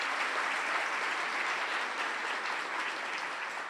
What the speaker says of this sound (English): Please, a round of applause for those leaders who have joined us today.